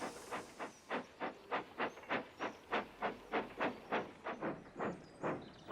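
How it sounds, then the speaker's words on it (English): Steam tram from a classic Thomas & Friends cartoon chuffing steadily: about sixteen rhythmic, evenly spaced hissing puffs, loud and close, with no talk over it. "he chuffed off to Gordon's hill"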